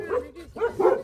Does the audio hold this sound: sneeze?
no